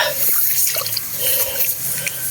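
Water drains from a rice paddy through an opened canal, gurgling and splashing steadily at close range with no talk.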